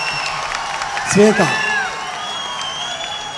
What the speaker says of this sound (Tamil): அப்பாவுக்கு வர்ற கைத்தட்டு உனக்கு வருது இப்போ.